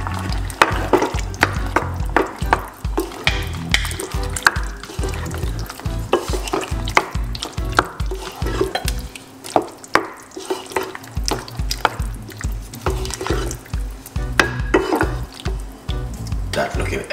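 Eggplant stew with vegetable stock being stirred in a pot, loud rhythmic scraping and clattering strokes repeating quickly and close, over a wet bubbling simmer.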